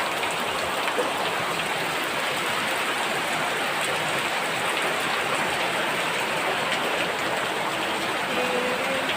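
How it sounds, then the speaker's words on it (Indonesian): Steady rain falls over the countryside, a dense, even hiss with fine pattering drops continuing unbroken throughout, fairly loud and close with no voices. "Alah, hujan."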